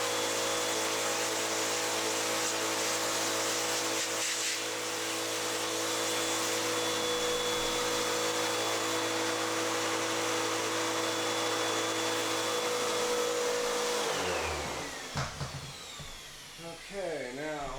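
A vacuum cleaner sucks up drilling debris from a CB radio base station case in one loud, steady whine close by for about fourteen seconds, then winds down, while someone talks briefly.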